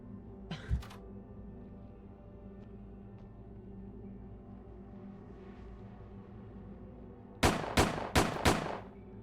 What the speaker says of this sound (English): it's like the same exact gunshot noise that they probably just got from like a stock up noise